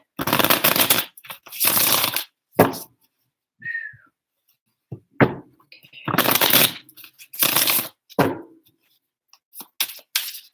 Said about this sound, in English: I really love these cards. They shuffle well